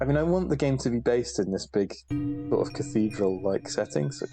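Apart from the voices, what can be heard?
No everyday noise stands out behind the speech.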